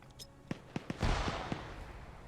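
A frag grenade detonates in a video game: a few sharp clicks and thuds, then a single loud, muffled boom that rolls off into a fading rumble.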